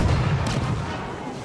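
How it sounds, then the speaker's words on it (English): A rocket launcher fires in the Star Wars Battlefront 2 game, giving a loud, heavy blast that trails into a deep, sustained rumble. "I have a rocket launcher."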